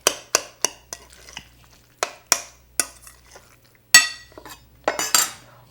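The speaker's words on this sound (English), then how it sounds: "I got two spoons going here. Just going to stir that one in," Guacamole being stirred with two spoons in a bowl, giving sharp metallic clinks and scrapes in irregular bursts with soft mashing between, close and fairly loud, with no talk.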